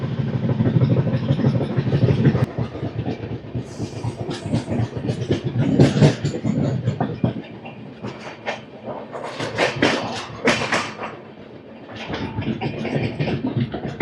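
The Andhra Pradesh Superfast Express 20805, running from Visakhapatnam Junction to New Delhi, rolls past close by with a steady, loud rumble and rhythmic wheel clatter over the rails, swelling and easing throughout.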